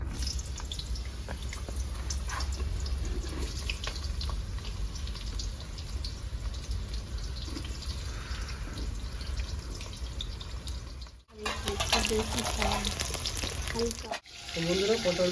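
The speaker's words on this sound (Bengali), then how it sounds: "পটলটা ভেজে নেবো।" Pointed gourd frying in hot mustard oil in a karahi. A dense, close crackling sizzle runs steadily, breaks off briefly near the end, then resumes.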